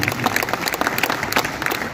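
Audience at a Hindi-Urdu poetry mushaira in Nizamabad applauding steadily, a dense wash of many hands clapping throughout at moderate loudness.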